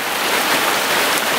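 Steady rain hisses down on a flooded winter stretch of the Camino Primitivo trail, a brief, close, continuous patter of drops with no voices.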